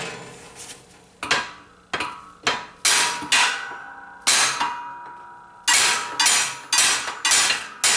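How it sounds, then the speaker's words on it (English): Sharp metallic hammer strikes on a U-joint cap, about a dozen loud taps in uneven bursts, close by with nothing else in the background. "Sometimes all you need is a little whack with a hammer to get them centered."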